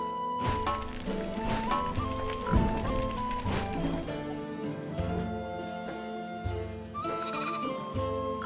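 Sheep bleat in the Viking survival game Dead in Vinland, several wavering calls over a soft background of rain and quiet game ambience, with a mellow musical drone underneath.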